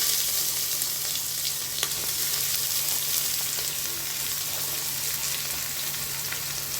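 Sliced onions sautéing in hot oil with whole spices in a pressure cooker for egg biryani, a loud, continuous close sizzle with occasional stirring scrapes and clicks, no voices.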